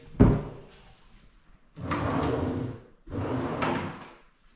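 A cabinet door in a finished condo-style rowhouse makes a sharp knock, then two longer rolling, rumbling open-and-close movements, close up with no talking.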